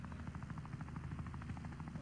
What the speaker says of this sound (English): I'm coming with a helicopter